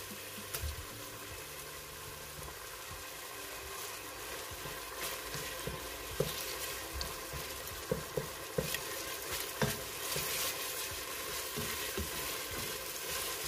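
Tomato paste frying in a pan with softened peppers and tomatoes over lowered heat for Yatimcheh, a steady close sizzle with scattered light scrapes and clicks of stirring throughout.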